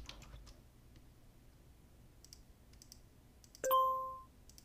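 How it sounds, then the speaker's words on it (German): A single sharp computer mouse click effect from a software sound library, followed by a brief ringing tone, standing alone against near silence. "hier gibt es zum Beispiel so einen Mausklick Sound Effekt"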